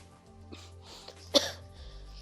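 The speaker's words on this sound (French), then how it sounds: "désolé si je tousse un peu" A single sharp cough from a person, close and sudden, preceded by faint throat noises and breathing over a quiet low room hum.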